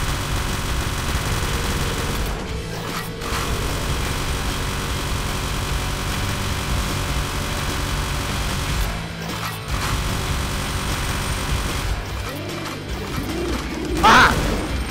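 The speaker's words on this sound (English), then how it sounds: "I got a machine gun, Bambi." Sustained automatic machine gun fire in the VR shooter game Drunk Or Dead, a dense continuous rattling burst running for several seconds with brief pauses and a sharp loud crash near the end; no talk.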